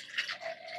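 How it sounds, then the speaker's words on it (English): Water pours into a blender holding shredded paper for recycled seed paper, a short, steady splashing fill heard close and alone. "just pour some water in there, just like so"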